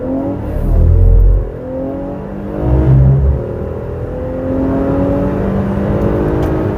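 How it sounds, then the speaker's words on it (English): An Infiniti QX60 three-row luxury SUV accelerating from 0 to 60 mph, heard from the cabin as a loud engine rising in pitch through several gear changes, with low rumbling swells and no talking. "let's accelerate here"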